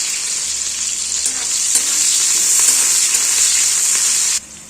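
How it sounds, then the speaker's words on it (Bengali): Onions fry in oil toward golden brown, a loud close hissing sizzle with a few stirring clinks that swells midway and cuts off sharply near the end, no voices. "গোল্ডেন ব্রাউন করে ভেজে নেব"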